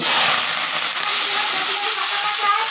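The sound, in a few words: cumin seeds sizzling as they are tempered in hot oil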